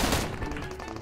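Gunfire in the battle-royale mobile game PUBG Mobile, with M16 rifles in use: a loud, dense burst of overlapping shots at the start, then continued rapid crackling fire through the rest of the moment.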